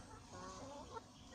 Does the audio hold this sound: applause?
no